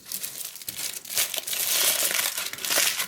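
A durum kebab bought in Germany is unwrapped from its paper and foil, giving close, loud crinkling and crumpling bursts with a brief tearing rustle, no talk over it.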